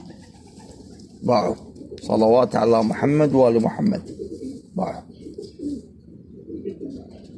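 Homing pigeons coo softly in the background while someone talks loudly over them at an auction.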